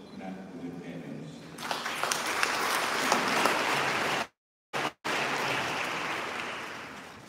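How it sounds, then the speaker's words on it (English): A church congregation claps for the parents at a Holy Cross final vows ceremony in East Africa. Dense, steady applause fills the hall for several seconds, broken briefly by two short dropouts. "Let us also clap for the parents."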